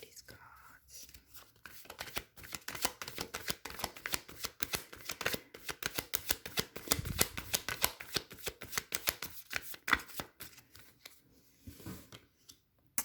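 Tarot cards are shuffled up close in a quiet room, a steady run of soft riffling flicks and papery snaps with faint murmuring underneath.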